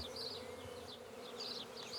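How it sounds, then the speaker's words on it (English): A swarm of honeybees gathering into a straw skep, drawn by the queen's attractant pheromone, on a farm: a continuous dense droning hum with wavering higher buzzes, steady and moderately loud. "It is a happy sound, isn't it, that you can hear these bees?"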